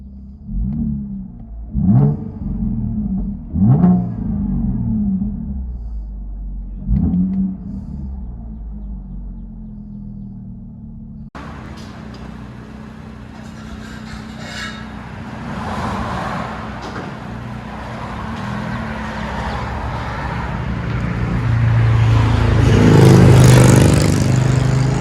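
A Chevy Camaro RS V6 with dual exhaust and Borla ATAK mufflers, heard from inside the cabin: a few low thumps, then a steady deep exhaust rumble that swells louder toward the end, with no talking.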